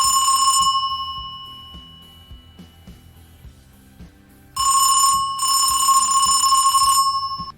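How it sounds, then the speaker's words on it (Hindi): A landline telephone rings in two bursts of repeated electronic trills, loud and close, with a quieter gap of faint ticking between them and no voices. "जैसे कि ये वाली साउंड है, एक टेलीफोन की साउंड है, लैंडलाइन की।"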